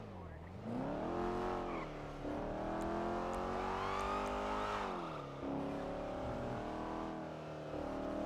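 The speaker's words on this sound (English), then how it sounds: "Why is this car so fucking loud" A loud car engine in GTA 5 roleplay on the NoPixel server drones continuously near and up front, its pitch climbing, dipping and climbing again through several revs.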